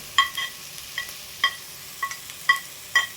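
Onion samosa filling frying in a pan, with short sizzling bursts and stirring scrapes recurring every half second or so, close and moderately loud with no talk.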